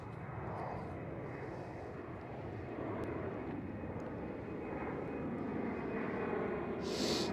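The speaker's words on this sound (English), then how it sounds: "And right there goes the KLM City Hopper." A KLM CityHopper regional jet passes at a distance, a faint, steady engine rush that rises slightly, with a brief higher hiss near the end and no voices.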